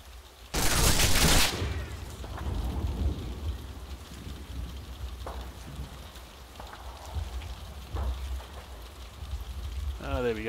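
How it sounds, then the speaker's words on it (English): A German MG42 machine gun in the wargame Combat Mission fires one sharp, loud burst lasting under a second, followed by a long rumbling stretch of distant battle noise with scattered faint reports. "that is an MG42"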